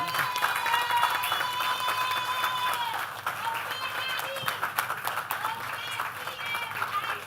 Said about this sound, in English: let us give a round of applause as we welcome our Prime Minister to the podium